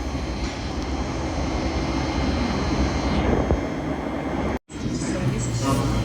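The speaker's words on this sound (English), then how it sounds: "Departing now, just over there, is a Southern service starting here at London Bridge, going to Uckfield." Southern passenger train departing London Bridge station, a steady loud rumble and roar of rolling stock heard close by on the platform for several seconds, with a brief dropout near the end.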